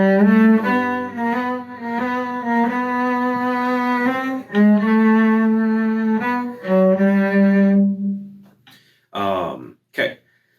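Bowed cello plays Minuet in G from Suzuki Cello Book Volume 3, a sustained melodic line of connected notes in a mid-low register, near and clear, ending with a brief pause and a few short sounds.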